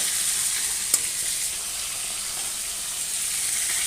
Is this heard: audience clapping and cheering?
no